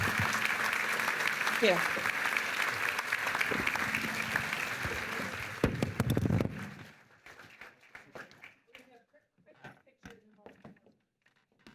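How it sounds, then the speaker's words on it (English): An event audience breaks into full, dense applause for the state governor that carries on for several seconds, then cuts off, leaving a brief spoken thanks and scattered small sounds. "let's give a round of applause to our governor and thank him for his time today."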